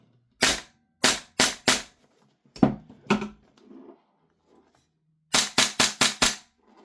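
A Novritsch SSQ4 HPA airsoft gun, regulator set around 120, fires sharp, snappy shots in quick bursts of three or four near the mic, with short pauses between groups and faint handling noise.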